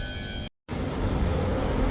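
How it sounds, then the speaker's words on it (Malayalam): A train rumbles steadily at a UK railway station, a low, continuous mechanical roar that drops out completely for a moment before returning just as loud. "അങ്ങനെ നമ്മൾ ഒരു ട്രെയിൻ എടുത്ത് ഇറങ്ങി അടുത്ത ട്രെയിൻ തപ്പി പോവാം"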